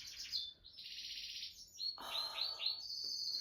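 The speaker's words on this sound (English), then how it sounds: "I can see one of my crow friends now." Bird calls from a tree, where a crow has been seen perched low: a run of bright, high chirping notes, fairly close and clear, with no talking.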